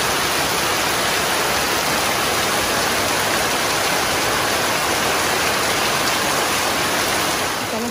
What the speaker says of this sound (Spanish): ahora sí está lloviendo recio